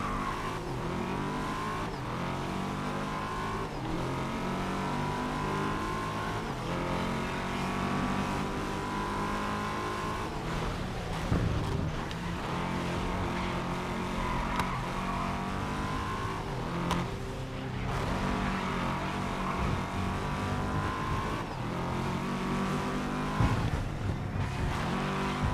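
Race car engine in GRID Legends droning and revving steadily at close range, with rising pitch sweeps as it shifts through gears on a track day run, continuous with no talk.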